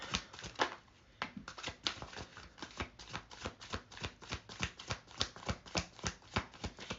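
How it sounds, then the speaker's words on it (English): Tarot cards are shuffled by hand in a rapid, steady run of crisp riffling slaps and flutters, close and fairly quiet, with no voices. "Why am I trying to shuffle that?"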